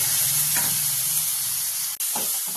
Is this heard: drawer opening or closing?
no